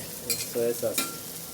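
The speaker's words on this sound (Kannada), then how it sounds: "ಈಗ ನಾನು ತತ್ತಿ ಆ್ಯಡ್ ಮಾಡ್ಕೊತೀನಿ." An egg is added to a hot pan with onions and curry leaves for egg burji, giving a brief clatter of stirring followed by close sizzling frying and a couple of scraping knocks.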